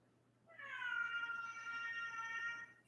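A house cat named Foxy lets out one long, drawn-out meow at a closed door, close and clear against a quiet room with a faint steady hum.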